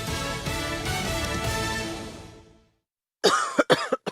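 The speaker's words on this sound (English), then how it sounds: "I can't sleep with this cough" A long, loud, rough cough fades out, followed after a short silence by a few sharper coughing bursts, close by with no talk.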